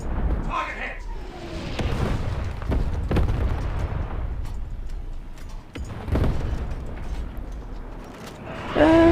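Tank ammunition cooking off in War Thunder Mobile, heavy booms and rumbling blasts rolling through the scene, with a few sharp cracks and a whining rise at the end.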